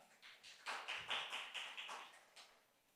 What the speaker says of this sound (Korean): 고생하신 코더팀에게 박수 부탁드리겠습니다